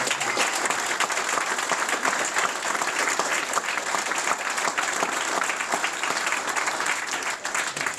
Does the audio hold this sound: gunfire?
no